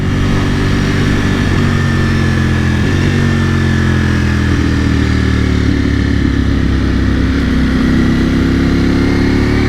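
Engine of a 2021 Ducati Panigale V4S motorcycle while riding on twisty roads, a loud, close, continuous roar with the pitch rising and falling through gear changes and throttle, no talk.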